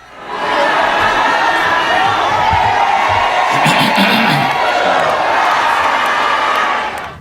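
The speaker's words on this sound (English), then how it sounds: "the crowd of hundreds sang her out like a ball player who had just struck out" A crowd of hundreds sings and jeers someone out, a loud, dense wall of massed voices with whoops and cheers that holds steady from start to finish.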